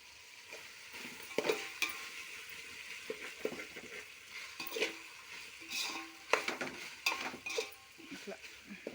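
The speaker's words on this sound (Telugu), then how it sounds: "పచ్చిమిర్చి వేసుకోవాలి, ఫ్రై అవ్వాలి." Green chillies sizzle and crackle as they fry in a pan for a vegetable rice dish, with repeated stirring scrapes and clinks of a utensil, close and fairly quiet, without talk.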